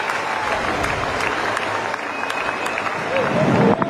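A cricket crowd at Wellington Stadium applauds and cheers a six, a broad, fairly distant roar of clapping with a commentator talking over it and the noise swelling near the end.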